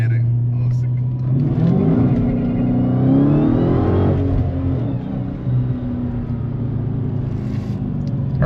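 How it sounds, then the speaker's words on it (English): A manual Dodge Challenger Hellcat revs hard, its engine rising in a loud sweep with the supercharger's whine climbing above it, then settling back to a steady idle close by. "Heard that whine, y'all? It's a Hellcat."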